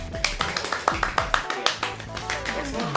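Several people clap their hands in sharp, irregular bursts close by while a PC is being built, with some background talk mixed in.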